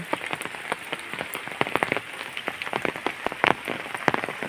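Heavy rain pours down outdoors by a flooded bean field in rural Bangladesh. Dense, crackling patter and sharp drips hit nearby surfaces continuously, close and steady, with no voices.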